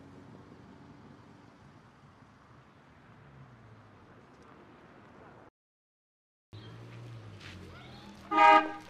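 A single short car horn honk sounds loud and close near the end, after steady quiet street ambience and a brief drop to silence.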